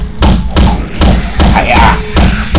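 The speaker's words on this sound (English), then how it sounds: "we can destroy this other window as well" Heavy thuds land in a steady rhythm of about five blows as a window is smashed in the survival video game 7 Days to Die, loud and close, with a voice speaking over the impacts.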